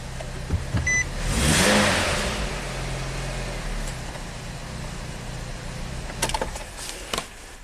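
A Nissan Sentra with a lit check engine light cranks and fires back up after being shut off, revving briefly before settling into a steady idle with a few beeps and clicks, close by.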